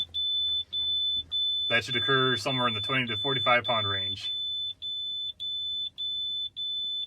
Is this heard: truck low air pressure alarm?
yes